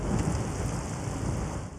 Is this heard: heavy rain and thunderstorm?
yes